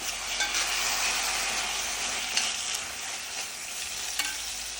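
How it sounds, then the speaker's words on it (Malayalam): Masala roast being stirred in a hot pan with water added, giving a steady close sizzle and scraping of the spoon throughout, with no talk. "നല്ലോണം ഇളക്കി കൊടുക്കാം"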